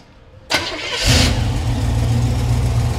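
A small-block Chevy V8 in a 1932 Ford Coupe cranks and starts, then settles into a steady idle with a light ticking valve clatter, close and fairly loud, no speech.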